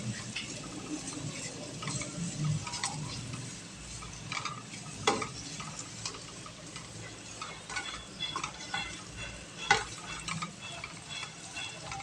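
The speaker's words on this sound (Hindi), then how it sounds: "ये देखिए हमारे अब ये फ्राई हो रहा है।" Minced meat (keema) fries in a pan, giving a quiet, steady sizzle broken by clinking and scraping as it is stirred, with no talking.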